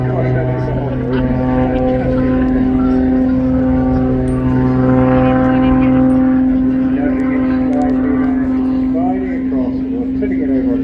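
A sports aerobatic propeller aircraft drones overhead at an airshow, a loud steady engine hum with a strong low tone and shifting pitch throughout, while an announcer talks over it.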